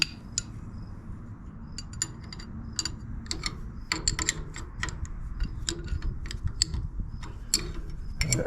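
Wrench ratcheting as a bolt is tightened on the starter of a 1912 Seagrave fire engine, a close series of irregular metallic clicks and creaks over a low background hum.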